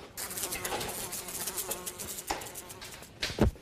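A fly buzzes close by with a thin, wavering drone that keeps going throughout, rising briefly in pitch near the end.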